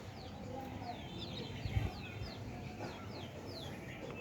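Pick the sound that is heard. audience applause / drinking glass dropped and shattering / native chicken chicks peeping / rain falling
native chicken chicks peeping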